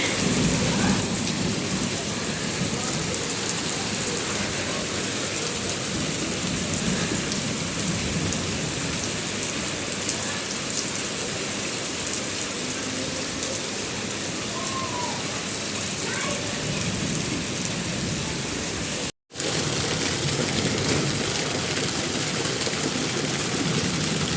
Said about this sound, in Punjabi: ਬਾਰਿਸ਼ ਸਾਡੀ ਹੋਈ ਸ਼ੁਰੂ